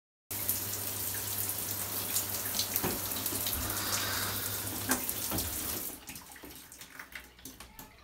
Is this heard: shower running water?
yes